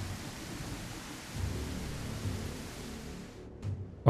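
Steady rain with low rumbling thunder fills a stormy scene in the dinosaur survival game The Isle, a continuous wash of noise with swells around the middle and a sharp loud burst at the very end.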